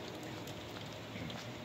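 Rain falls steadily outdoors, a dense, even hiss of drops on surfaces that stays close and constant throughout, with no voices.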